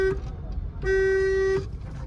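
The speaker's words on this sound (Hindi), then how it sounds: "हॉर्न का यूज़ ज़्यादा करिएगा" A single sustained car horn blast rings out for under a second over road noise, with a brief short toot just before it.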